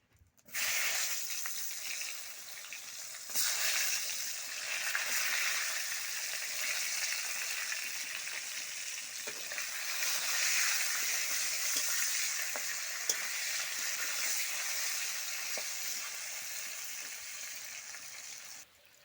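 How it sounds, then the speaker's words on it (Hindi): Eggplant sizzles and fries steadily in a pan with salt and turmeric, a continuous bright hiss with occasional stirring clatter, no talk. "बाइगन टाक भाजी नवा।"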